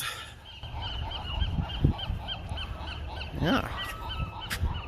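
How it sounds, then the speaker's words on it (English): Loud honking seagull calls repeat in a rapid, overlapping chorus nearby, with a brief voice heard among them. "Listen to those seagulls."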